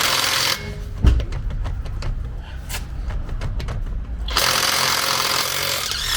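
A Stromo cordless impact wrench works on a tightly fastened nut, loud and close. It roars briefly, pauses with scattered clicks and knocks, then hammers steadily again for the last couple of seconds.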